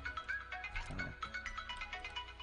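Melodic phone ringtone in short repeating tonal bursts, fairly faint, heard over quiet background sound with a brief low thump near the middle.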